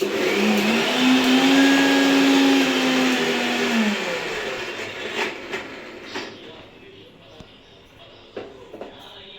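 A kitchen mixer grinder whirs loudly while blending onion, ginger, garlic and coriander, then winds down and stops. Afterward only faint clicks and small handling sounds remain.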